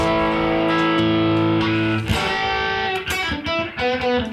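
An electric guitar is played through a reverb effect into two amplifiers. Sustained chords and notes ring out with a distorted edge, followed by a few choppier, accented strums near the end.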